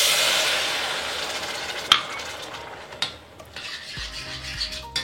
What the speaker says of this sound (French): Là, je remue